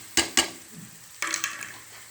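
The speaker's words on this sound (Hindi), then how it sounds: "चिकन को अच्छी तरह हम फ्राई करेंगे 2 से 3 मिनट तक" Chicken and shredded cabbage stir-frying in a pan, with two sharp scraping stirs near the start followed by a softer burst of sizzling and stirring, close and moderately loud with no talk.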